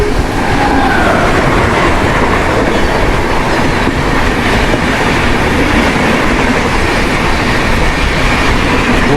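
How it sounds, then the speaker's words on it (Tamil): Chhattisgarh Express rushes past at close range, a loud continuous roar of wheels and rolling stock with rhythmic clickety-clack and faint wheel squeal throughout, no voices. "சத்தீஸ்கர் எக்ஸ்பிரஸ்."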